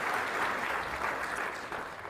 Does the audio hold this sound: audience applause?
yes